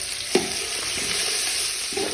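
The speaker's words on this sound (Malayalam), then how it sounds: "നല്ല കൂട്ടി വഴറ്റും" Onions sautéing and sizzling in a pan for a beef curry, with a steady frying hiss broken by a few scrapes and clinks as a utensil stirs them.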